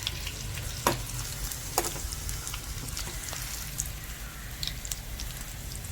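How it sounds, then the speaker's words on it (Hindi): Hot tempering sizzles and crackles steadily as it is poured over homemade khandvi topped with green chillies and coconut, with a few sharper pops and spits standing out close by. "अब इसके ऊपर हम तड़के को ऐड कर देंगे।"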